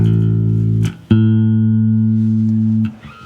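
Two sustained bass guitar notes ring out one after the other, the second entering after a short pluck, each held steadily and loud.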